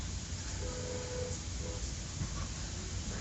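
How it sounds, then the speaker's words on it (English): An empty coal train led by an SD70 Ace locomotive rolls past near Clearfield, a loud continuous rumble and wheel roar with brief tonal squeals, no talking. "Now, for the most part, it's a coal train."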